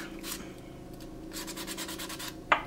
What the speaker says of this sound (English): Sanding the sides